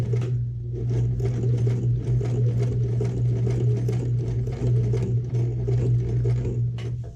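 A sewing machine runs steadily through fabric as a bag is stitched, a loud continuous motor hum with a rapid needle rhythm that holds for about seven seconds with no pauses and no talking.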